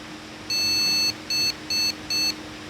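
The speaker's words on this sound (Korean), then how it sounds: "비품이 길게 삐 소리 한 번 난 다음에 짧게 세 번 나네요" A motherboard POST beeper sounds one long beep followed by three short beeps in an even rhythm, loud and close over faint background hum.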